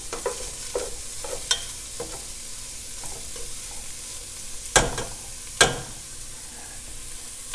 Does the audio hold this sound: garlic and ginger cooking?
yes